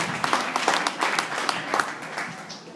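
An audience applauds at an MVP award night, a steady, dense patter of many hands clapping in a hall, with a faint voice underneath.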